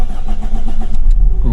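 A car engine, newly running after a distributor repair, turns over and settles into a steady idle, loud and close, with a low rumble throughout and a brief rise near the end.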